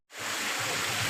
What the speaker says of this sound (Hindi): पानी बहुत खूबसूरत मतलब फूलों के जैसा बरस रहा है यहाँ पे